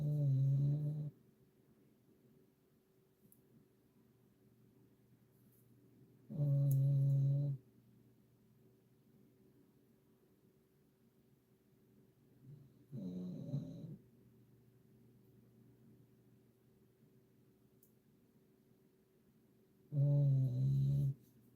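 A dog snores in four slow, deep rasping bursts spaced several seconds apart, close by and fairly loud, with quiet breathing and a faint steady hum in between.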